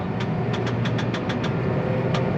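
A Massey Ferguson four-wheel-drive tractor driving out along a road, its engine a steady, loud mid-pitched drone with a faint regular ticking pulse and no break throughout.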